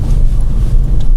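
Low, steady engine rumble fills the clip as a manual car pulls away during a driving lesson, sounding close and loud with no distinct gear change.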